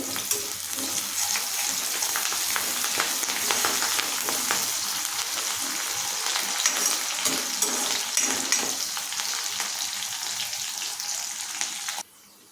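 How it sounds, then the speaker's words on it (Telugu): Curry leaves dropped into hot oil in a pan for an Indian potato curry, giving a loud, steady close-up sizzle that crackles continuously for about twelve seconds before cutting off abruptly. "సో కొంచెం కరివేపాకు వేసుకోండి."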